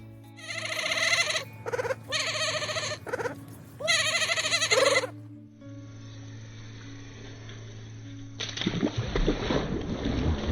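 Goats bleat close by in three loud, wavering calls, one after another, followed by a quieter stretch and then some splashing and rustling.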